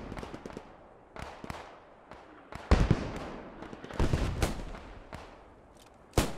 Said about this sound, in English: the smokes and mortars are starting to land on, into the western trees